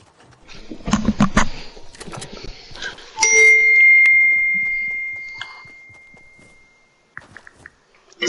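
A mobile phone gives off a single bright chime that rings out and fades slowly over several seconds, following a burst of clattering knocks and thumps nearby.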